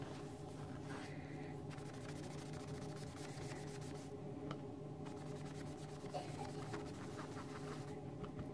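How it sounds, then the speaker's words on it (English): Ink-loaded sponge rubbed over paper to build a stamped card background, a soft continuous scrubbing with repeated dabbing strokes, quiet and close, steady throughout with a faint room hum beneath. "ink up your sponge and just go over it"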